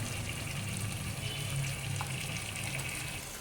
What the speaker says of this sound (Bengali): এইভাবে অল্প জল দিয়ে দিলাম